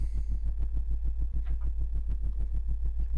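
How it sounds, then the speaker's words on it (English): The submarine engine in the Sega Genesis game 688 Attack Sub makes a steady, rhythmic low throbbing, a heavy pulsing drone that repeats evenly throughout with no voices. "I like this noise that the sub makes while you're driving."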